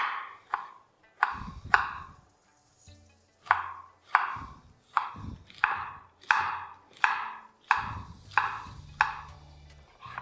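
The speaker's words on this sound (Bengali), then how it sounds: "6 থেকে 8টা ফুল নিয়ে সেটাকে আমি চপ করে নেব" A knife chops cauliflower florets on a board for a vegetable soup, about a dozen crisp close thuds in uneven bursts with short pauses between them.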